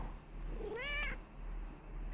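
A cat in the horror game Nightmare of Decay gives a single clear, drawn-out meow midway, rising then falling, over a quiet background hum.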